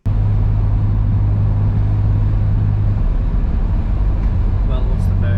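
A Ford XH Falcon turbo with a welded differential drives along, its engine and road noise forming a loud, steady low rumble throughout, heard from inside or close by.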